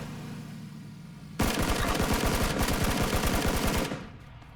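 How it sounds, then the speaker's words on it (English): Automatic gunfire in PlayerUnknown's Battlegrounds: a sudden, loud, rapid burst of shots aimed at vehicles, running steadily for a few seconds before stopping abruptly, with no talk. "Vehicles will explode if you shoot them."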